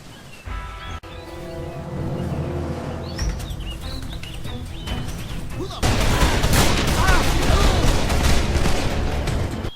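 Bursts of rapid gunfire in the video game Call of Juarez: The Cartel crackle continuously, growing denser and louder partway through, with a low hum underneath and brief chirps.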